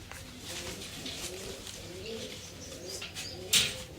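Domestic blue-marked pigeons, a mother bird among them, coo in low, soft repeated phrases close by, with a brief louder rustle or flutter near the end and no talking.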